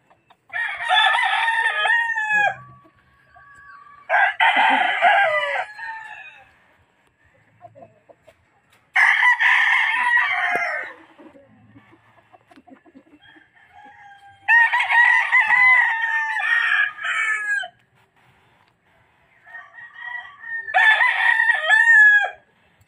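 Pure Raptor sweater gamefowl roosters crowing loudly and close, five long crows separated by short pauses, with occasional soft clucks between them.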